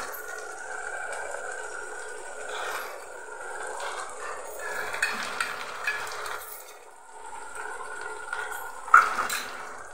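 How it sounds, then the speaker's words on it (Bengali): Masala with tomato paste, for a Bengali-style chicken chana masala, fries and is stirred in a pan, with steady moderate sizzling, a few scraping stirs and a sharper clink near the end. "সেটাও আমি দিয়ে একবারে মশলাটাকে ভাজবো"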